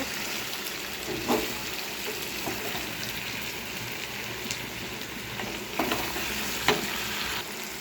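Mutton sizzling steadily in released oil while being sautéed for kosha, a constant crackling hiss with occasional spatula scrapes and stirring knocks against the pan, close and unbroken.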